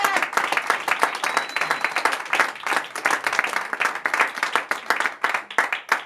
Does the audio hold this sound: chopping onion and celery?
no